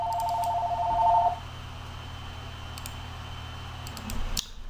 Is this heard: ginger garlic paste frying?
no